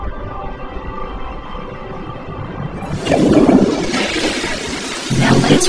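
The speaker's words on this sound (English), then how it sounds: "Now let's pull up my underwear and flush the toilet" A cartoon toilet flush sound effect in an animated short: quiet for about three seconds, then a loud broadband rushing gush of water that swells again near the end, with no talking.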